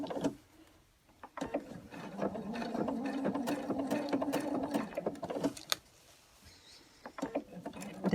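Sewing machine stitching while preparing Halloween costumes, run by hand without a foot control: a steady mechanical whir with rapid needle clatter for several seconds, briefly stopping and restarting near the end.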